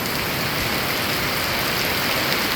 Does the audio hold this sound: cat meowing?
no